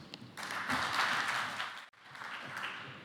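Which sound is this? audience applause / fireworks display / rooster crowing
audience applause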